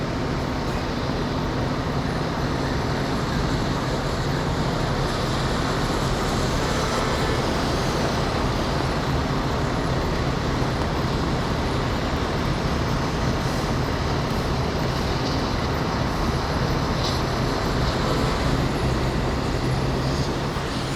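Steady freeway traffic in Los Angeles, a dense continuous roar of cars, buses and trucks, loud and unbroken with no voices.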